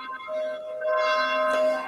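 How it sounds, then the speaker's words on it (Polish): Church bells ringing steadily in the background, a sustained resonant metallic tone with shimmering overtones, moderately loud and continuous with no speech over it. "bo chyba dzwony zaczęły bić"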